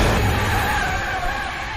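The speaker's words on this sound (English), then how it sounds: "Are you telling me he just got ran over by a car?" Loud car noise from a Halloween video game as a vehicle runs over a character, a dense engine roar with skidding tire texture filling the whole brief moment.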